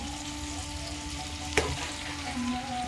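Potatoes fry in a pan with a steady, close sizzle and hiss, broken by one brief sharp knock midway.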